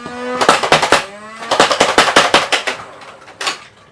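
Up close, a Fortnite SCAR Nerf blaster fires darts in a fast series of sharp, loud cracks, two quick bursts with a short pause between them.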